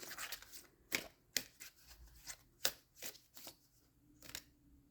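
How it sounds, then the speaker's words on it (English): Playing cards being shuffled nearby, with several sharp riffling bursts and soft slaps separated by brief quiet gaps. "Keep shuffling here."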